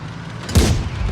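A single deep tank cannon boom in World of Tanks Blitz lands mid-clip with a brief rumbling tail, loud and close over a steady low background hum.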